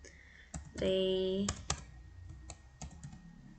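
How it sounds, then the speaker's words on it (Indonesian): Computer keyboard typing code in Stata: a few scattered, fairly quiet key clicks, while a loud tonal sound briefly overlaps. "kita ketik di kolom komen"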